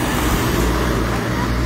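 A car passes fast on a road in Barbados, a dense, loud roadway roar that stays close and steady throughout, with a person talking over it.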